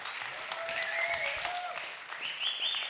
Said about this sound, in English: and big applause.